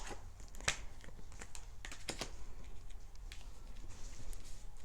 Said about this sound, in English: I gotta focus on shuffling all these cards.